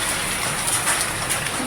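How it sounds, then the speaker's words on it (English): Small hailstones fall during a hail storm on the Sunshine Coast, making a steady dense patter with a few sharper hits, close and moderately loud, with no voices. "They're much smaller hailstones."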